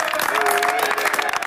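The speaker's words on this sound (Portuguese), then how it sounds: "Palmas pro Fudêncio." Dense, steady audience applause during a live interview show, a continuous wash of many hands at close range with a faint voice or cheer riding over it.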